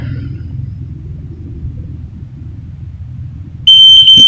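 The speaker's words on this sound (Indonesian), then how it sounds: "kalau misalkan udah nyambung, itu akan ditandai bunyi bip 2 kali" A low steady rumble, then a motorcycle alarm module's sharp, loud high-pitched electronic beep cuts in near the end and holds.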